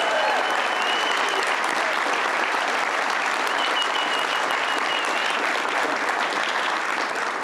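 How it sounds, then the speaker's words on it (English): A crowd at a Louisiana governor candidate's concession speech applauds itself in a thick, continuous roar of clapping that stays loud and even from start to finish. "Give yourselves a round of applause,"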